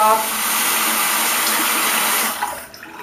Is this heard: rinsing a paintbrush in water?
yes